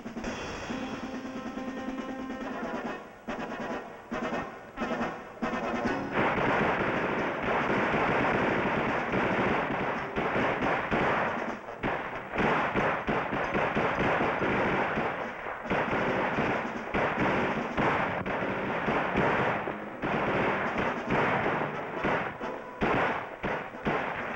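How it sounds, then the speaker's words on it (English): Military weapons fire on a test range in sustained, loud bursts of rapid automatic shots with sharp repeated reports, building into dense continuous firing. "Commence firing."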